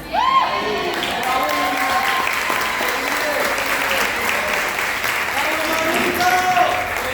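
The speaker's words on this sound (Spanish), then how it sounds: "Un aplauso a la Abigail de mi vida," Steady audience applause fills a church service, a dense wash of clapping heard throughout with a speaking voice running over it.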